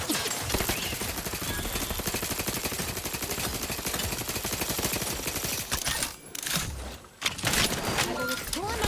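Rapid automatic gunfire in the Outer Worlds 2 video game, near-continuous loud bursts for about six seconds, breaking off briefly then resuming, with some talk mixed in.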